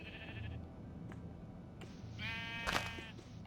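Sheep in a castle-building video game let out several bleats, one short cry early on and a louder, longer bleat near the end, over a faint background hum.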